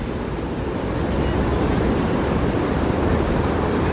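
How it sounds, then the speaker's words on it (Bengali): Steady roaring surf from ocean waves at Cox's Bazar, a dense continuous wash with wind buffeting the microphone and no voices. "ঢেউগুলা প্রতিটা আর ঢেউয়ের শব্দে মনটাই ভরে যায়"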